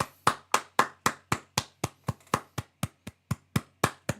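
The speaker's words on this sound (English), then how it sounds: "I'm clapping for you." Steady, evenly spaced hand claps ring out, about four per second, crisp and close with no voices.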